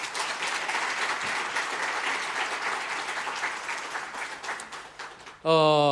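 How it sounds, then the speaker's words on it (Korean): A church congregation at a Sunday worship service applauds warmly for a long stretch, the dense clapping fading slightly before a sustained sung or tonal note abruptly takes over at the end. "우리 오신 분들 뜨거운 박수로 한번 더 격려하겠습니다"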